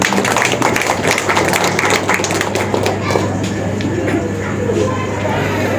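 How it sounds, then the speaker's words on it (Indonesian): Audience clapping at an evening inauguration ceremony of a Bali community association, a dense burst of applause with crowd noise and a steady low hum underneath. "Tepuk tangan."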